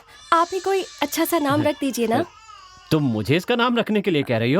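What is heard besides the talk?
baby crying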